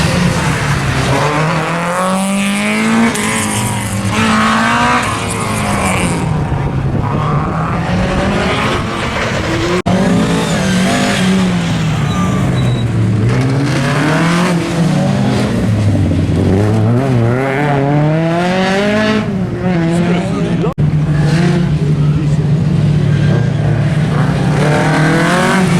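Rear-wheel-drive rally car driven hard on a rally stage, engine loud and close throughout, pitch rising and falling sharply through gear changes and revs, with tire noise mixed in.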